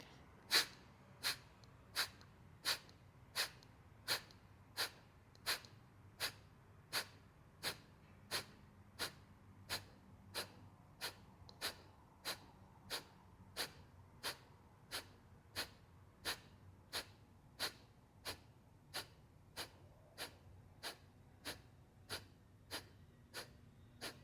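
Rapid, forceful pranayama breathing exercise with sharp exhalations, a long steady series of evenly spaced breath bursts at roughly one per second, close and distinct over a quiet background.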